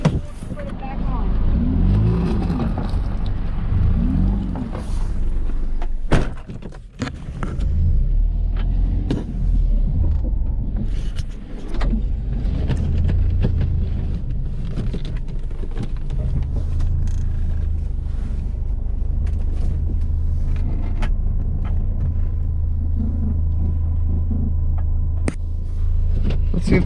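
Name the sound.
Mazda RX8 rear wheel making a bad noise while driving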